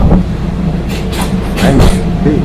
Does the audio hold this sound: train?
yes